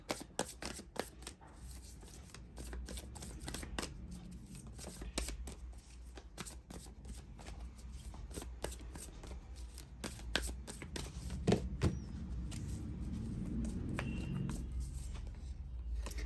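A tarot card deck is shuffled by hand at close range, giving rapid crisp riffling and flicking of the cards over a soft, steady background.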